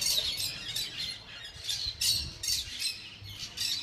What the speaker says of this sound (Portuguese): é esse passarinho verde, preto e papagaio. O maritaca.